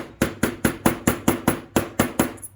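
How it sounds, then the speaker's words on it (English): A small ball peen hammer strikes a copper blank about ten times in a steady rhythm, each blow a loud, close, sharp metallic tap that rings off briefly. "I'm going to use this little ball peen hammer."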